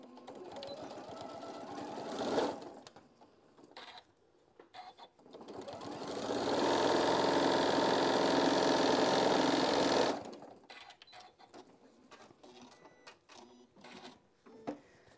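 A sewing machine stitches down a 5.5-inch fabric square in one steady, fairly loud run of a few seconds, set between quieter handling sounds and brief clicks.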